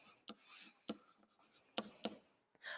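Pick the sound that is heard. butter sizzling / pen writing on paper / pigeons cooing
pen writing on paper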